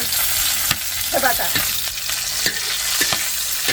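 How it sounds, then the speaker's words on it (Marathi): Green chillies sizzle and crackle in hot oil in a home kitchen pan for a traditional Marathwada curry, with steady broadband frying hiss and a few sharp scraping stirs, close and alone without talk. "आता तेल टाकिलंय मिरचीवर थोडस आता भाजून घेते"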